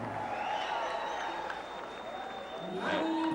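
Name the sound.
boxing arena crowd cheering after knockout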